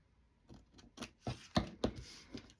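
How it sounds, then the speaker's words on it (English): Scissors snip through paper while an envelope is folded and mitered around page pockets, giving several short, faint crisp cuts spaced irregularly, close by with no talking. "I can't get my scissors to do nothing there."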